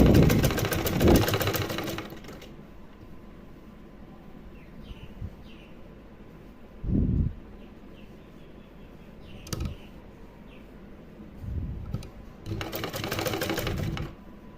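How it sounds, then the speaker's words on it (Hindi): Sewing machine stitching a drawstring into net fabric for a small deity outfit, with bursts of fast mechanical whirring at the start and again near the end, and quieter handling noises between. "तो डोरी हमें इसके अंदर रखनी है इस तरह से, और यहाँ पर एक सिलाई लगा देनी है।"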